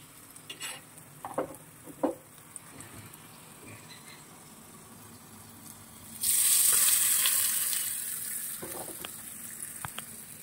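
Garlic pieces sizzle and crackle in hot oil for a tempering, starting quietly with a few stirring clinks. Then a sudden loud, hissing fry takes over and slowly eases off.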